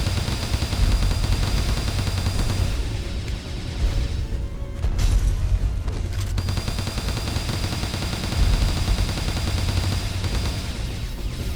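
Video game gunfire rattles in rapid, continuous bursts with heavy booming low end, briefly pausing midway before resuming, with no talk.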